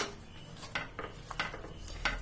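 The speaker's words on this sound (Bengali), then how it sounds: "ঘি দিয়ে তারপরে একটু নাড়াচাড়া দিয়ে দিলাম দেখুন" A spoon scrapes and clinks against a cooking pot while vegetables are stirred in ghee for a bottle gourd malai curry, with irregular short scrapes and taps close by and no talking.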